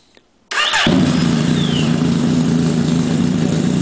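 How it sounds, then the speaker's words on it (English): Yamaha snowmobile engine converted for aircraft use cold-starts without choke: a brief cranking whir, then it catches and settles into a loud, close, steady idle. "that was a cold start, no choke. Started right up."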